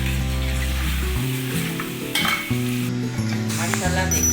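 Beef trotters (paye) for an Eid dish frying in a pot, with a steady hiss of sizzling broken by the scrape of stirring, close up and continuous, with a low hum underneath.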